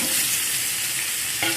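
Chopped mango going into hot oil tempered with fennel seeds and whole cumin for a spicy mango pickle, giving a steady close sizzle and frying hiss with a brief stirring scrape near the end.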